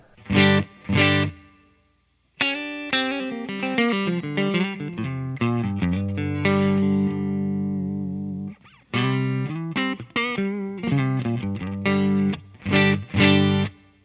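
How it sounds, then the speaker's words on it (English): A clean electric guitar with spring reverb plays chords and melodic runs with a ringing, reverb-washed tone, separated by short pauses. "Here's clean tone. Nothing going on except some spring reverb from the Big Sky."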